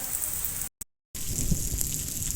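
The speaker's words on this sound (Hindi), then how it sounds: "आज ज़बरदस्त बारिश हो रही है हमारे यहाँ" Heavy rain pours steadily in a village, a dense, loud hiss of drops striking surfaces that cuts out briefly and then resumes, with no voices.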